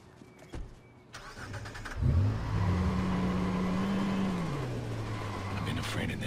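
A car engine starts in the Watch Dogs video game: a click and crank, then the engine catches with a rising rev and settles into a steady, droning idle, with faint speech nearby.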